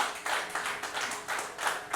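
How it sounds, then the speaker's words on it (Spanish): A church congregation at an evangelistic service in El Jicote, Nayarit claps in quick, rhythmic unison, the pulses close and loud and steady across the moment. "¿Le puede dar un fuerte aplauso al Señor?"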